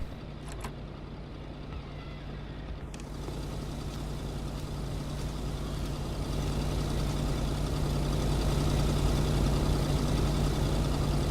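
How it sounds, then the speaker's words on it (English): A car engine idles steadily in a first-person video game, a constant low rumble with a fixed hum, near and unbroken, growing slightly louder over the stretch with a couple of faint clicks early on. "I mean, I kind of think I should turn the car off."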